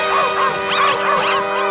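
Cartoon puppy yelps and whimpers in short high-pitched bursts, fairly close and loud over a busy animated soundtrack.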